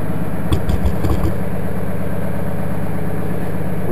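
A Mahindra 1526 tractor engine idles steadily and loudly up close, a constant low rumble with a few brief clicks near the start.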